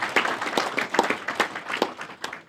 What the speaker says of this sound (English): I'd like to give you a round of applause for that and for helping us out here.